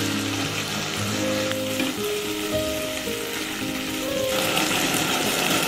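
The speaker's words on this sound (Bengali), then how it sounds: "এবার এর মধ্যে দিয়ে দেব কর্নফ্লাওয়ার গুলে রাখা জলটা।" A cornflour-and-water slurry goes into a hot pan of soya chilli, and a steady loud sizzle bubbles and hisses, with faint tonal whines drifting under the frying and no talking.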